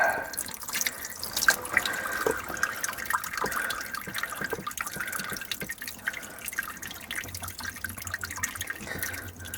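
Water drains from an OMC outboard motor while it is winterized, dripping and trickling steadily at close range with small splashes and occasional clinks of tools.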